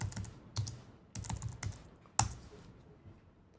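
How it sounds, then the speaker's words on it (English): Several short bursts of keystrokes on a computer keyboard, entering a search query into a software help browser, clustered into quick groups with pauses between, close and clear against quiet. "I can just type that into the Help Navigator."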